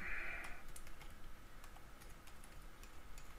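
Quiet, scattered key clicks come from typing on a computer keyboard, with a steady low background hum underneath.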